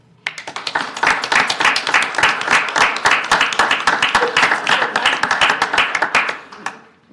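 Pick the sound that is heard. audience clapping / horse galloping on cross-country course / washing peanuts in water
audience clapping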